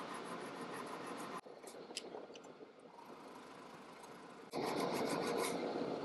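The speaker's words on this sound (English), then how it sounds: "I'm going to try on them little diamond laps to just polish this up a little bit" Small diamond laps rub against a snug-fitting part from a 1958 XL Sportster motorcycle project, giving close, steady rasping strokes in two loud bursts with a quieter, softer rubbing stretch between them.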